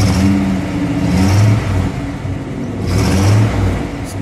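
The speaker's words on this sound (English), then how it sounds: "Go ahead, give it a little rev." Engine of a 1959 Plymouth Belvedere convertible being revved while parked: two swelling rev blips rise and fall over a steady low idle, close and fairly loud, with no voices.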